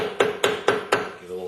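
A hammer taps a screwdriver against a lip while prying a part loose during a Meyer E-60 rebuild, giving four evenly spaced, ringing metallic taps, close and clear, with no voices.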